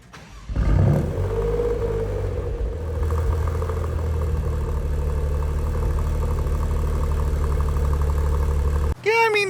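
A 2024 Maserati GranTurismo Trofeo engine, not a V8, starts and settles into a deep, rumbling idle with a steady low quad-exhaust burble, close by, before a voice cuts in at the end.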